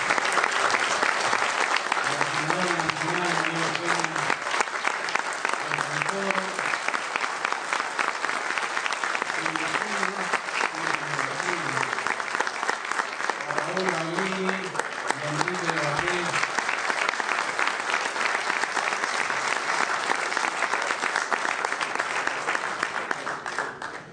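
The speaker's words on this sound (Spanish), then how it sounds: "le damos un enorme aplauso" Steady, dense applause from a conference audience welcoming speakers to a workshop, sustained loudly throughout with no break.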